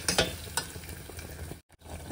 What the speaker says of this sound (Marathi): जो मसाला आपण मी पेस्ट केलेला होता तो पण घालणार, छान एकत्र मिक्स करून घेऊया